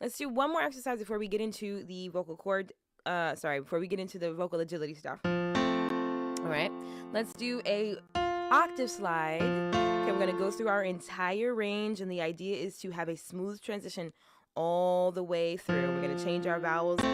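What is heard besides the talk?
No distinct noise like a dog, phone or traffic.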